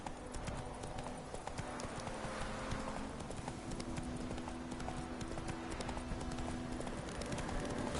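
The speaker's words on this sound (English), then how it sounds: "Run, Roach" Galloping hooves of a horse in The Witcher 3 video game, a steady rapid clip-clop running throughout at close range over game music and ambience.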